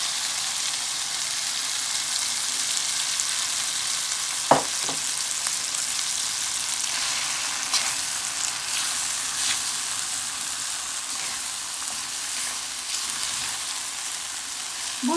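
Vermicelli sizzles steadily in a pan after sugar is added, a constant close hiss of frying with a couple of brief clinks of a utensil against the pan.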